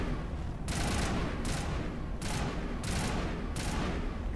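Rapid automatic assault rifle fire from the Mass Effect video game comes in loud repeated bursts, each lasting under a second and separated by short pauses, close and dense, with no talking.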